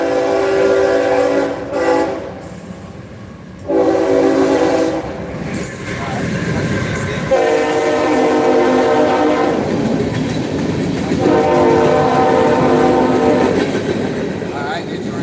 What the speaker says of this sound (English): And that train is what you hear